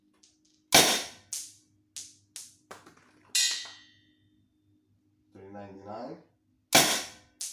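Tippmann Cronus paintball marker fired over a chronograph, several sharp loud pops spaced a second or so apart, each with a brief ringing tail, while a voice reads out the velocity between shots.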